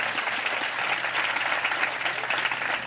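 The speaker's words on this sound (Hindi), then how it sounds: "जोरदार ताली में रूल कदस को वेलकम करेंगे" An audience at a Christian gathering in Faisalabad applauding, dense and sustained clapping that fills the whole stretch at steady loudness.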